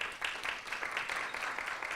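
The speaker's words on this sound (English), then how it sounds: "Give him a round of applause for that." Applause from an audience at a library tutor recognition event, a soft, fairly distant patter of many hands clapping in uneven bursts, continuing quietly throughout.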